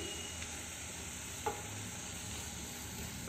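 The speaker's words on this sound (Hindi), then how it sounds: "इसको कुछ देर स्टर करेंगे ताकि जूस और ज़्यादा रिलीज हो जाए और इसे हम मीडियम टू हाई फ्लेम पे रखेंगे।" Peaches being stirred with lemon juice in a pan over a medium-high flame, a continuous soft sizzle and bubbling hiss with one brief scrape of the spoon, no talking.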